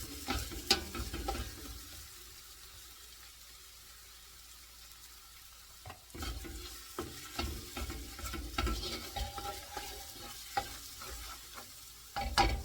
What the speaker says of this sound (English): I'm going to be stirring this paste around pretty good for about 3 minutes